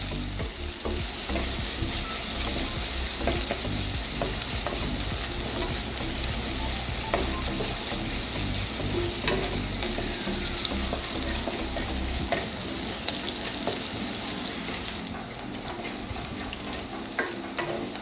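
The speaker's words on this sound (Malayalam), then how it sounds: "ഒരു ചെറിയ സവോള ഞാനിങ്ങനെ പൊടിയായിട്ട് അരിഞ്ഞു വെച്ചതാണ്. ഇതൊന്ന് വഴറ്റി കൊടുക്കുക." Finely chopped onion sautés in a pan for a jackfruit-seed side dish, a dense, constant sizzle with regular scraping stir strokes throughout, close and even, with no one speaking.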